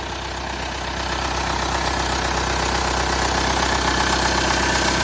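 A Hyundai Tucson 4WD engine idles steadily up close, a constant low throbbing hum with a slight knocking rattle, rising a little in loudness early on.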